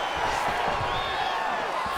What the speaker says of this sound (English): they can take in the applause because they deserve it after that grappling exchange